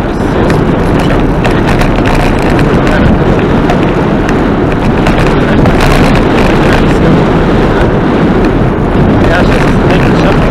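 Strong wind buffeting a microphone during a car journey, a loud, continuous broadband roar that rumbles steadily for the whole stretch with no break.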